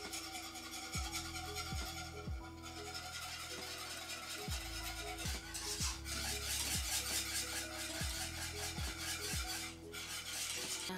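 Cornmeal being whisked into a pot of boiling water, a faint, steady scraping and stirring with repeated light clinks of the whisk against the pot, no talking.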